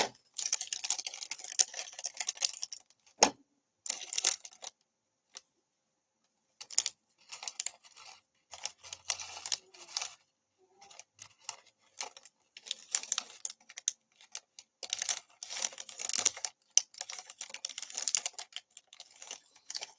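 Plastic bag rustling and small tapping clicks come from fishing tiny micro-brick studs out of a bag of a dragonfly building set, in irregular bursts broken by short pauses.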